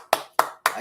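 Three sharp, evenly spaced hand claps ring out close and loud, each one fading quickly into silence, as a brief mock round of applause during a political commentary.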